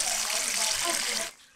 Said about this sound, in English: Let's put water in there.